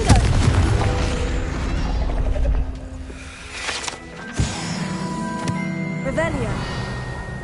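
A Confringo fire-blast spell cast in the Hogwarts Legacy video game lands as a sharp boom among whooshing, mechanical game effects, with a voice speaking over the sounds.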